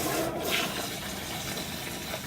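Water gushes and rushes steadily as sediment is flushed from an under-sink drinking water filter on well water, a continuous close, fairly loud flow with no talk.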